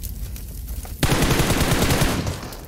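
Gunfire in the PUBG Mobile battle royale game: a sudden loud burst of rapid automatic shots starts about a second in and keeps going as a dense, close rattle, following quieter background game noise.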